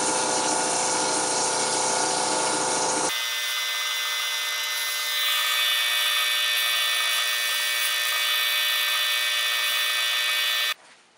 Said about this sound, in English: Now we are going to use the 320 sandpaper